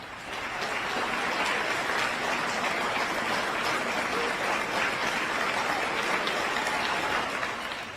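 A crowd cheers and applauds for a police officer released from the hospital and saluted by fellow officers, a steady, dense wash of clapping and cheering heard from a distance.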